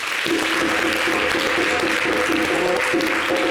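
A television studio audience applauds after a call to clap, a steady wash of many hands from start to finish, with faint voices beneath.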